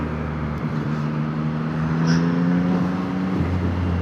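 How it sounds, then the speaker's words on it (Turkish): Yamaha MT-09 Y-AMT motorcycle pulling away gently, its engine a steady low drone with harmonic tones rising slightly as the throttle opens, close and continuous with light wind rush. "Şimdi gaza dokundum. Evet tatlı bir kalkış yapıyor."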